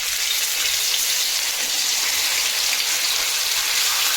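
Ground raw mango hitting hot oil in a kadhai gives a steady, dense hiss and crackle of frying, close and even throughout with no talking.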